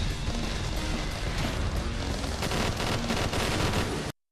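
Dense, loud gunfire and explosive crashing as a Dragonfly drone is shot down in Black Ops 2 multiplayer, continuous for about four seconds before cutting off abruptly.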